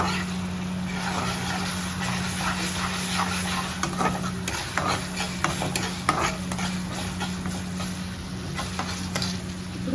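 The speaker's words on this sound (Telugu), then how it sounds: "కొంచెం బాగా కలుపుకుంటూ పచ్చివాసన పోయేదాకా వేయించుకొని అప్పుడు చికెన్ వేసుకున్నాం." Ginger garlic paste frying and stirred in a pan before chicken goes in for a curry leaf chicken fry, a constant sizzle with scraping stir strokes and a low steady hum beneath, and no talk.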